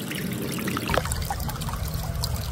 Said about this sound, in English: Use one of the saltwater caps to add salt into the saltwater bottle.